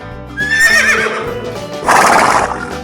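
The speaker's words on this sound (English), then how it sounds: "horse," A horse whinnies twice in quick succession, a loud high neigh followed by a second shrill burst, with faint hoof clops beneath and no voices.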